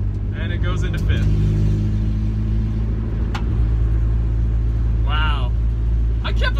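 A CB7 car with a newly installed motor drives along the road, its engine giving a steady, loud rumbling drone throughout, heard from inside the cabin with brief talking over it.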